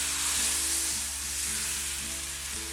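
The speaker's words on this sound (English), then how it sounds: "The name bánh xèo comes from the sizzling that the pancakes make when you cook them." Vietnamese bánh xèo pancake batter sizzles and crackles in a hot pan, a steady loud frying hiss with a low hum underneath and no voices.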